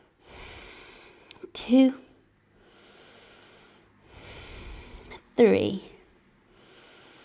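Slow, deep breaths held in a yoga lizard pose on the forearms or hands, three long airy breaths close to the listener, with a calm voice counting between them.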